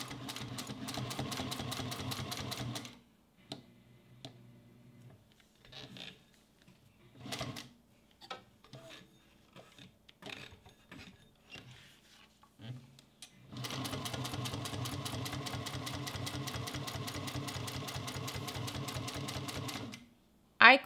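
Juki 1541s sewing machine top stitching leather, two long steady runs of rapid needle stitching, close and even, with a stretch of quieter clicks, handling and brief stops between them.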